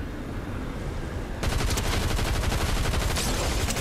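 Dense, continuous gunfire from the Fortnite video game starts abruptly after a quieter opening and rattles on loud and close until the end, with no talking.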